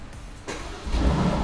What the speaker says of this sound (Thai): ตาเครื่องก็เหยียบเบรกครับแล้วก็จะมีไฟแดงขึ้นตรงนี้ ก็สตาร์ทเครื่องเลย